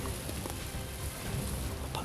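Rain falls in a dense, steady patter with faint scattered drops, fairly quiet and continuous for a couple of seconds without speech.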